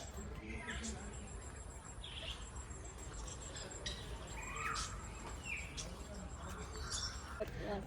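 A chorus of birds in a large aviary chirping and calling over one another, sharp high calls scattered throughout over a steady low background hum.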